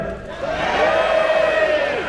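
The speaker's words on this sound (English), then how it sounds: "Cheer him on." A crowd cheering someone on: a steady wash of voices shouting and whooping together, close and loud, swelling briefly and holding for a couple of seconds before cutting off.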